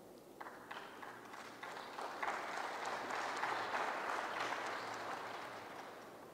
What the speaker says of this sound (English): If you are tired of clapping, you just say so I can make a shortcut.